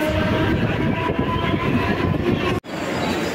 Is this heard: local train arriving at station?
yes